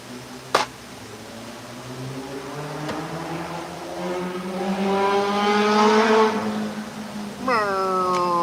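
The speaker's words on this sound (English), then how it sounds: "Somebody thinks they got a race car." A car engine revs hard and climbs in pitch like a race car, rising steadily over several seconds before a second sharp rev near the end, with a chainsaw-carving crowd nearby and brief background voices.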